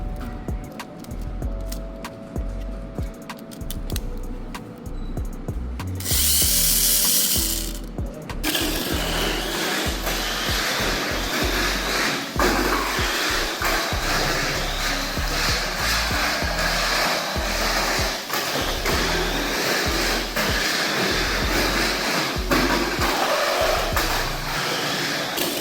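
A Tamiya Mini4WD car with its original Hyper-Dash motor runs laps on an outdoor track, giving a steady high-pitched motor whine that pulses as it passes, with a brief louder buzz near the start.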